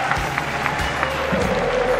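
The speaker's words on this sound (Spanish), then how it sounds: "Aplauso" Football match crowd applauding in a stadium, a brief spread-out patter of clapping over a low steady crowd murmur, with a few sharper claps standing out.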